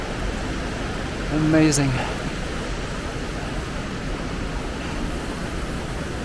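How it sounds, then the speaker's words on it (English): A mossy waterfall in the Höllentalklamm gorge of the German Alps rushes in a steady, broad roar that fills the whole stretch, with a brief spoken exclamation near the start. "Look at that beautiful mossy waterfall here."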